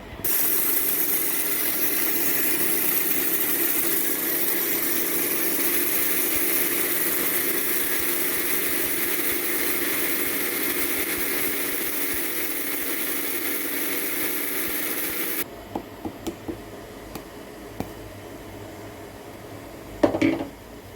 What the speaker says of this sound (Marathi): मी छोट्याच मिक्सरच्या भांड्यामध्ये लावलेले आहेत, कारण मोठ्या भांड्या नको एवढं करायला.